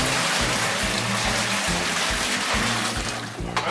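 Twenty-one liters of water heated to 75 degrees are poured into a mash kettle for brewing a stout, a loud, continuous rushing splash that runs steadily over background music.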